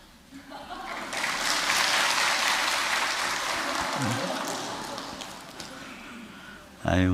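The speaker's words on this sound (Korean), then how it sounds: "우리 박수로 이 아이를 축복합니다." A church congregation claps steadily for several seconds to bless a child, a dense patter of many hands that swells then slowly fades, before a voice starts speaking.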